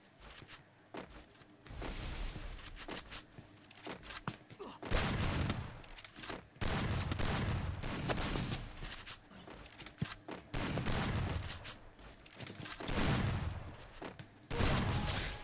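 Video game gunfire rings out in repeated dense volleys, bursts of rapid shots separated by brief gaps and ending the fight with a headshot, loud and continuous across the stretch.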